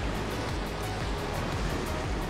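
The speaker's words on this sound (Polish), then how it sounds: "Pusty pień w środku, a w nim morze chlupocze." Seawater sloshes and gurgles inside a hollow petrified tree trunk on a Greek island shore, a steady, close wash of splashing with no voices.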